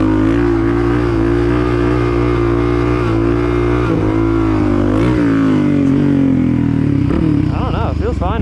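A supermoto motorcycle engine roars loudly and steadily during a wheelie, its pitch shifting as the throttle changes, with a voice talking over the engine noise.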